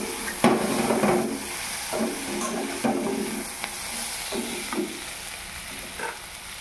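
Onions browning and sizzling in a hot pan, stirred with repeated scraping knocks of the spoon over a steady frying hiss.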